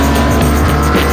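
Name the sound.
hardcore BMW car cornering on test track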